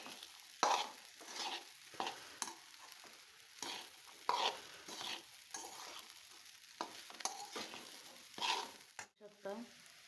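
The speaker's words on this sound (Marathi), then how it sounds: "त्याला चांगलं मिक्स करून घ्यायचं आहे।" Whole rice is stirred into a frying pan, with repeated spoon scrapes and clacks in irregular bursts over a soft, quiet sizzle, close by and without talk.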